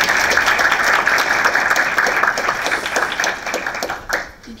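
An audience at a talk on Moroccan cinema welcomes a guest speaker with applause, individual claps audible within a lively patter that gradually thins and fades out near the end.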